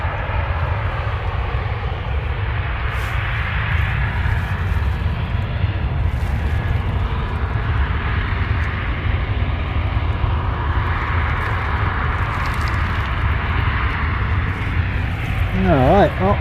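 An Emirates Airbus A380 at Christchurch Airport in thick fog, a steady deep engine rumble with a broad roar above it lasting throughout, with someone talking over it.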